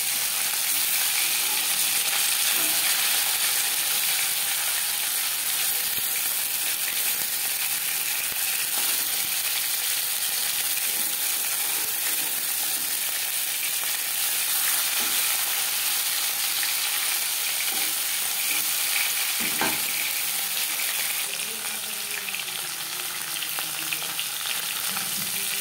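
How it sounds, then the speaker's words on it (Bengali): Fish pieces and a fish head fry in hot oil, giving a loud, steady, close sizzle with a few faint clinks of stirring and no talk. "মাছ ও মাছের মাথা একটা সাইড ভাজা হয়ে গেলে অপর সাইডটা উল্টে দেবো।"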